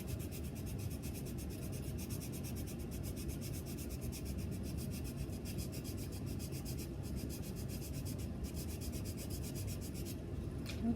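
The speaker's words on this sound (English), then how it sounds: "Now I'm going to flip my popsicle stick over and I'm going to do the fine sandpaper" Fine sandpaper rubs back and forth over a wooden popsicle stick, a continuous soft, gritty scratching hiss, close and steady for the whole stretch.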